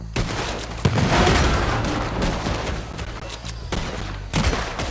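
Dense, rapid gunfire in a Red Dead Redemption 2 shootout, with overlapping shots and booms in a near-continuous loud barrage across the whole stretch and a few sharper cracks standing out.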